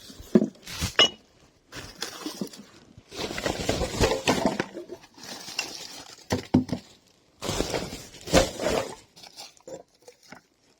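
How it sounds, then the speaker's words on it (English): Glass and metal recyclables clink and clatter as they are piled to one side, several bursts of rattling and knocking at close range with short pauses between. "I have a pile of glass going, so I'm going to pile any metal and glass over to the side here."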